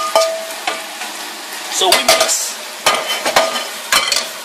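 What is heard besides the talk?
stir-frying rice with meat in oil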